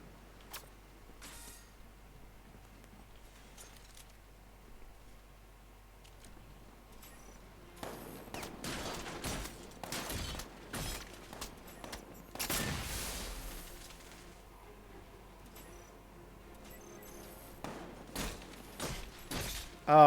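Scattered bursts of gunfire from an armed enemy in Batman: Arkham Knight, sharp cracks and thuds clustering in the second half over a quiet game backdrop, with one longer rumbling volley near the middle.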